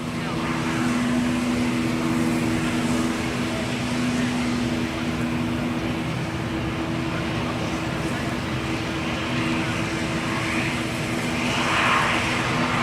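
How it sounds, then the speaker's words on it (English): Qantas airliner taxiing at Gold Coast Airport, its jet engines a steady droning hum with a persistent low tonal whine, fairly constant in level throughout with no nearby speech. "There we go, you can start to hear those engines."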